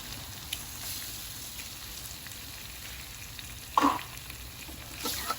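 Two eggs fry in a pan, giving a faint, steady sizzle, with a brief clink near the end.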